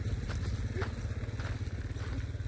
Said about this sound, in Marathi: चला गाईज आपण केली मोटर चालू